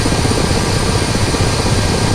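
A Ka-50 helicopter in a flight game roars steadily with loud, dense rotor and engine noise throughout, with no voices.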